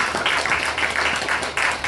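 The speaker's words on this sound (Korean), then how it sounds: "영광의 박수 올리겠습니다." A church congregation gives a short burst of applause at a Sunday service, many hands clapping in a fairly loud, even patter with no speech over it.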